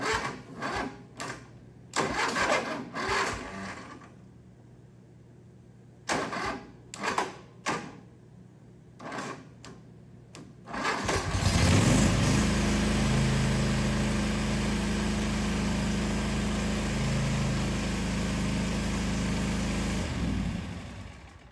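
Zero-turn riding mower on a jump pack: several short separate bursts of the starter cranking, then the small engine catching and settling into a steady loud idle, heard up close.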